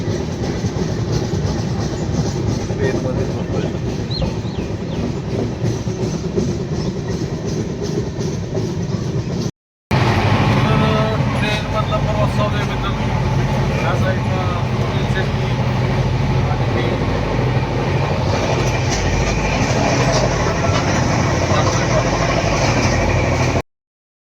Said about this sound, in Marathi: तर ट्रेनचा प्रवास चालू आहे मित्रांनो